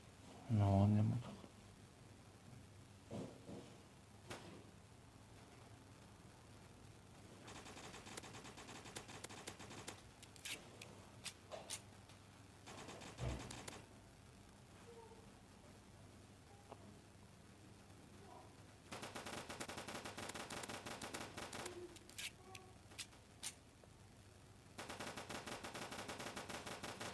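Bursts of automatic gunfire from the Block Strike video game, with long sustained volleys and short clusters of shots repeating throughout, and a voice talking between the bursts.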